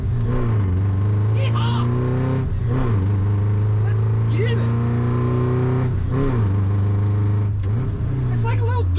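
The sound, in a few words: engine of 1972 AWD VW car driving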